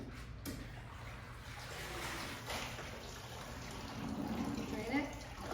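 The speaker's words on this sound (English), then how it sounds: "Then you rinse your mop head in the water." A mop head is rinsed in a bucket of water, giving soft sloshing and trickling under a person talking nearby, with a little dripping toward the end.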